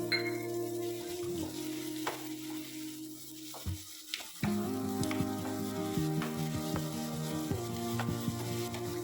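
Onion, green chilli, ginger and garlic sauté with a little salt in a pan for a crab masala curry, giving a steady, close sizzle and frying hiss throughout, with a brief lull midway and tonal background sounds underneath.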